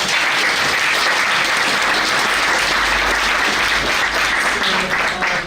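Audience applause at the Polip International Literature Festival 2018, an evening of readings and music, fills the room as a dense, steady clapping that holds for about five seconds without a break.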